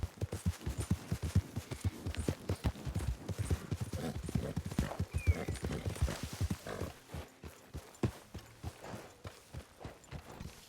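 Horse hooves clip-clop in a rapid, uneven patter near a fishing spot, loud at first and then slowing and thinning into scattered steps, with no talk.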